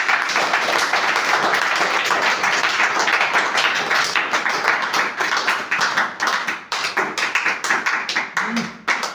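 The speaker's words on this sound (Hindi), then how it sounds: "चलिए अपने माँ बाप की एक जोरदार ताली" A loud audience claps hard and steadily for their parents, a dense roar of hands that breaks up into scattered, uneven claps near the end.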